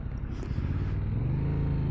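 A 2023 Yamaha MT-07 motorcycle rides along with a steady, loud low engine drone and road rumble, the pitch rising slightly toward the end as the engine pulls.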